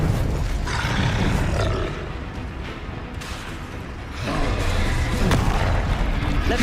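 Fire spells cast in Hogwarts Legacy, a sustained roaring, booming burst of flame and magic that swells loud, dips for a couple of seconds, then surges again with a rumbling low end.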